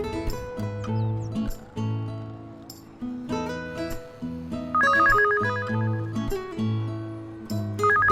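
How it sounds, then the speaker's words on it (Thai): A phone rings in the mobile game The Sims FreePlay, a repeating electronic ringtone pattern playing loud and close over game music. "ฉันตื่นนอนเพราะเสียงโทรศัพท์ที่ดังขึ้น"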